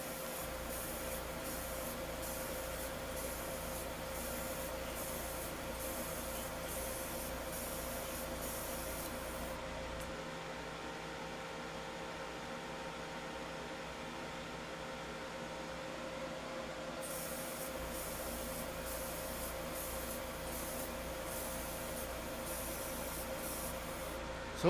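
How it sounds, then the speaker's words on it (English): A touch-up paint coat is sprayed onto a 1/100 scale Sinanju robot model kit with a continuous soft airbrush hiss that runs steadily throughout, quiet and even, with a faint change in tone partway through and no voices. "So what we're doing is just a third quick touch-up coat."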